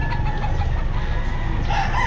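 At the Bocaue pet market, a rooster crows steadily over a dense, continuous wash of crowd noise and low rumble, with clucking fowl around and no clear talk.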